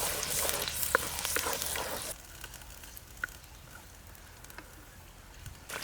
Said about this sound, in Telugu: ఉల్లి పేస్ట్ వేసేసుకుందాం ఇది పచ్చివాసన పోయే నాలుగైదు నిమిషాలు బాగా వేయించుకోవాలి